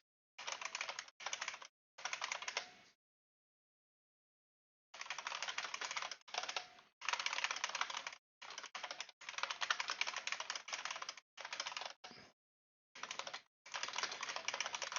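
Rapid typing of programming code on a computer keyboard, dense clicking bursts broken by brief pauses, close and steady, with no speech.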